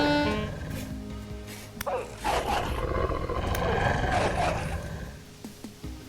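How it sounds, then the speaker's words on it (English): Wolf in a video game, a low rumbling growl close by that swells and snarls over several seconds, with a few sharp creature noises layered on top. "That's another wolf, and that sounds pretty close by."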